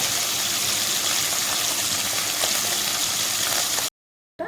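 Small fish frying in hot oil in a nonstick pan over a gas flame, a steady loud hiss and crackle that holds evenly for about four seconds, then cuts off abruptly.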